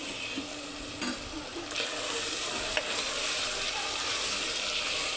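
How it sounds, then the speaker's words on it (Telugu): Onions fry in hot oil for mutton curry, a steady close sizzle with a few light scrapes and knocks of a spoon stirring the pan, no talking. "ఆనియన్ బాగా వేడేయాలి."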